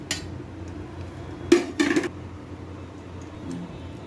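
Steel dishes and utensils clatter in two quick bursts as rice and mashed potato are served, with a fainter clink near the end against a quiet kitchen background.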